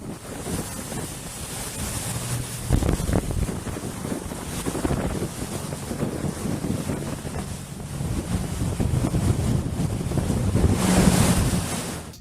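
Rushing tidal water at the Saltstraumen strait churns and swirls into whirlpools, a loud, steady roar of surf mixed with heavy wind buffeting the microphone, swelling louder toward the end.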